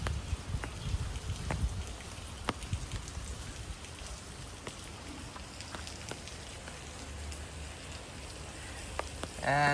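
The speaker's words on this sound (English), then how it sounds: "since you have started your stream, it started raining here." Rain patters down around Boat Lagoon and the Royal Phuket Marina in Thailand, a constant wash of drops broken by occasional sharp nearby drips and splashes.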